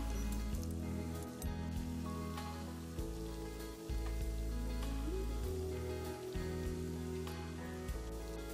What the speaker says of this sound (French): Quand l'huile de friture est montée en température, plongez les brioches